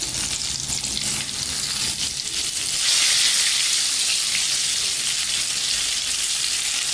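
Stuffed ridge gourd hits a hot pan with oil, turmeric and a pinch of asafoetida, the steady frying hiss swelling into a louder, brighter sizzle partway through and holding there, close and without talk.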